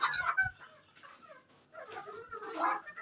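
A chicken clucks in short, agitated bursts at close range, with brief scuffling and handling noise between the calls.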